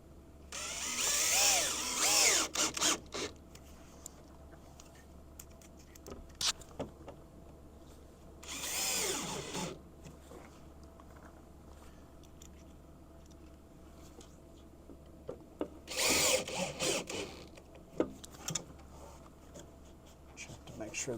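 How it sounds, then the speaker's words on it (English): A power drill driving screws into a hatch door on a Sol Horizon camper, sounding as three short whirring bursts spaced several seconds apart, close and fairly loud, with quiet handling noises and some speech between. "let's go ahead and set the rest of the screws in"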